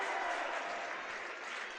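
A Hillsboro/Central Valley home crowd claps and cheers steadily through a girls Class B basketball game, a dense, continuous wash of applause from start to finish with no clear voice above it.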